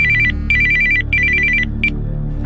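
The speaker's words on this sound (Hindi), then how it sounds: "शाम को 7 बजे उसका फोन आया" A telephone rings in loud, close electronic trills, three bursts followed by a shorter chirp, over a low background hum.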